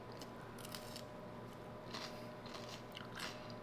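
Crisp, crunchy bites into raw vegetables dipped in dill dip at home, with a few quiet crunches spread over a few seconds and no talking.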